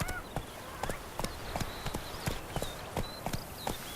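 Roach, the horse in The Witcher 3, gallops with quick, evenly spaced hoof clip-clops, close and steady for about four seconds, with no voices over the hoofbeats.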